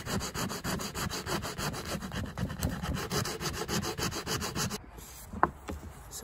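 A wooden axe handle is sanded with coarse 40 grit sandpaper in steady, rapid back-and-forth rubbing strokes, close and continuous, easing slightly near the end with one sharp knock.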